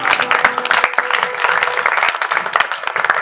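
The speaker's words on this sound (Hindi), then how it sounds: "ताली बजाओ हमारे महाराज के नाम" Audience at a Shrimad Bhagwat Katha religious gathering clapping together, dense steady applause with sharp individual claps, loud and close throughout.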